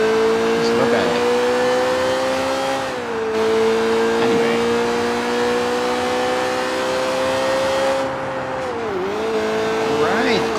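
A car engine drones steadily through a drive in the video game Triad Wars, its pitch holding level and dipping briefly twice as if shifting or easing off, with a voice talking over it.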